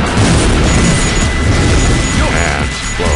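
Continuous loud booming blasts and crashing as objects are blown up and destroyed in the Sonic Adventure 2 video game, dense and overlapping with no break.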